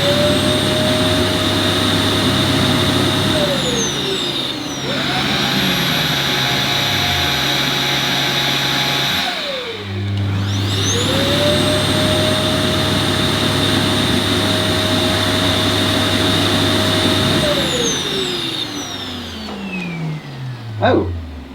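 A Eufy E20 robot vacuum's base station runs its dust-collection cycle, a loud, steady whining suction roar that ramps up, dips briefly, then winds down again near the end.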